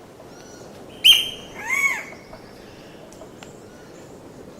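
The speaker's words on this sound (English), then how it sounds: "So that's a squirrel cuckoo." A squirrel cuckoo gives a short, sharp call followed by a second, drawn-out note, heard alone and fairly near against a quiet outdoor background.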